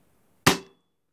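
A single sharp, snappy shot from a Weihrauch HW 45 air gun cracks out once and decays quickly, with a faint ringing tail and otherwise quiet surroundings.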